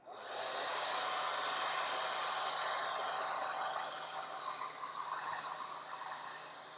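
A hair dryer blows over a wet watercolor painting in a steady, fairly quiet whoosh that starts abruptly and runs for several seconds, easing slightly toward the end.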